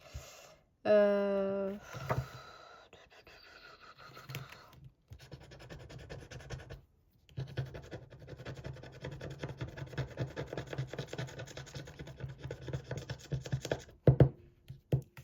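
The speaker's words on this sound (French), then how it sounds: "Non, on va pas jouer, on va gratter plutôt" Lottery scratch cards being scratched by hand, a run of close, dry, rhythmic scraping bursts with short pauses and a faint voice in the background.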